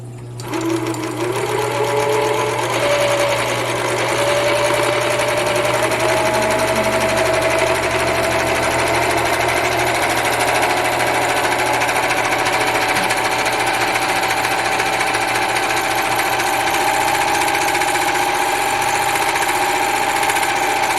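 A Toyota 6600 serger stitching through doubled lightweight cotton fabric, a loud, continuous, fast mechanical whir that stays steady for about twenty seconds, close up and uninterrupted by speech.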